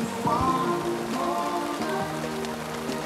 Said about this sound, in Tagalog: Raining season na. Biglang umulan.